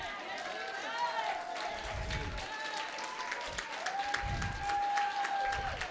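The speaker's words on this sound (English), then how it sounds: "she deserves that standing ovation and those applause, right?" Standing ovation at a Haitian ladies' network brunch in Washington DC, a continuous wash of applause throughout with sustained tones and low thumps mixed in, moderately loud.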